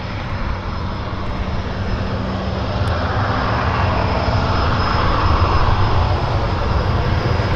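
Airliner engines at Vancouver airport, a Qatar Airways jet on the ramp, give a steady loud roar and broad rumble that builds slightly and holds throughout, with no talk.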